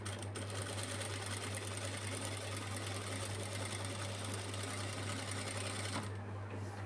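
Steady continuous whir of a sewing machine stitching a kids' lehenga, running without pause at an even pace before cutting off near the end, with a low mains hum underneath.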